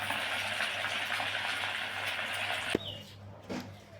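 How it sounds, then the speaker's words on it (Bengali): Semolina and potato snacks fry in hot oil with a close, steady crackling sizzle that stops abruptly after about three seconds, followed by a faint clink and quieter sounds. "আবারও কিছুটা তেলের মধ্যে দিয়ে দিচ্ছি, আর এই একই রকমভাবে সব স্ন্যাক্সগুলো ভেজে নেব।"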